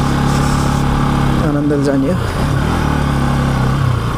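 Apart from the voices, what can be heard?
motorcycle riding on a gravel road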